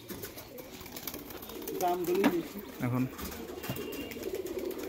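Faint cooing comes from high-flying pigeons settled mostly on the ground, with a couple of soft calls midway beneath a man's brief speech.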